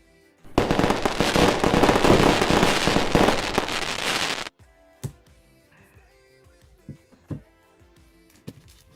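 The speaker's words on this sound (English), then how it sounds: "definitely gets fireworks" Fireworks burst in a dense, loud crackling barrage for about four seconds, then cut off to a few scattered sharp pops and clicks.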